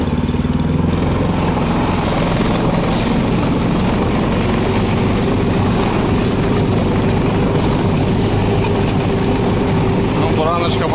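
A cold Buran snowmobile engine idles loud and close in frozen taiga, a steady, rough droning hum that runs unbroken throughout.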